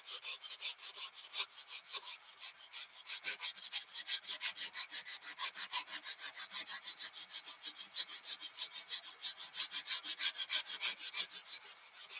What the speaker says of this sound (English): We're just here sanding